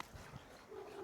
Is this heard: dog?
yes